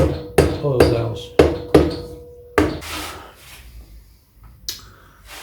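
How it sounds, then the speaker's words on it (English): A Triumph Trident T160 cylinder head is tapped down onto its oil dowels, producing about five sharp, close knocks in an uneven rhythm, followed by quieter scraping and handling noises. "It's down to the dowels, the oil dowels, and then just needs tapping down"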